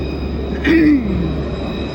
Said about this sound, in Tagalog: Kasi ito ay tram lang.